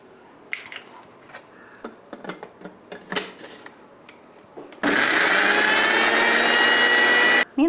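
Kitchen clatter and small knocks come first, then a mixer jar blending sugar and vinegar for mayonnaise roars loudly and steadily for under three seconds before stopping.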